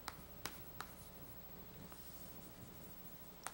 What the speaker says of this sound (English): So let me just write it out.